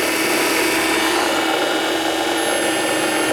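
Motor running while powering a bulb, a steady loud mechanical whir with a constant pitch, close by and alone for a few seconds.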